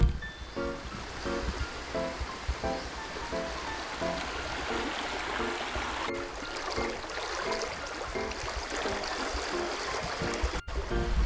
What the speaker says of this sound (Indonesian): Tapi iki arusnya deras banget ya, Glenn.